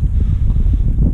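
Steady wind buffets the microphone outdoors during a quick FPV drone test flight on a rough-weather day, a continuous low rumble filling the short stretch without talk.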